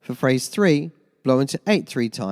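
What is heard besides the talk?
No everyday noise stands out behind the speech.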